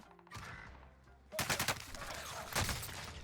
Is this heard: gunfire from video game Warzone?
yes